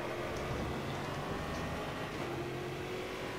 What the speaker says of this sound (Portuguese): Tô aí acelerando o estocão do Lucas de Graz